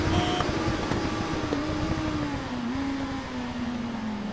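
Motorcycle engine accelerating off the start line in the RIDE 3 racing game, a loud continuous rising whine that climbs steadily in pitch with a layered mechanical drone beneath.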